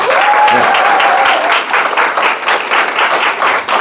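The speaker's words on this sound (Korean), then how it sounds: "박수로 한번 시작해 보시죠." Steady audience applause at a lecture, loud and dense with a brief voice tone early on, continuing evenly for a few seconds.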